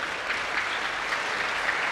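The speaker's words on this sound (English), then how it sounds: "Crowd's giving her a round of applause as she walks off with the staff of Team Canada." A crowd at a women's gold medal match between France and Canada applauds steadily as an injured player with a quad knock walks off with team staff, dense even clapping throughout.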